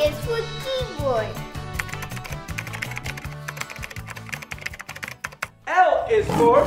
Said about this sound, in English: K is for keyboard.